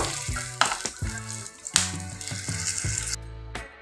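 Peanuts frying in a pan over a low flame give a steady, moderately close sizzle, broken by a few sharp clinks and stirring knocks.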